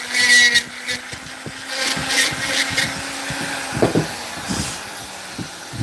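A rotary carving tool with a fine Kutzall burr works on wood, giving a moderate whirring hum broken by short scratchy bursts as the burr cuts, fairly close and with no talk over it.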